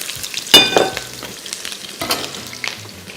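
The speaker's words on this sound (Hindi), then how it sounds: "ऑयल में ऑयल गर्म हो गया। सबसे पहले इसमें स्लाइस किए हुए प्याज शामिल किए" Sliced onions hit hot olive oil, making bursts of crackling sizzle with stirring clatter, loud at first and then settling into intermittent spatters.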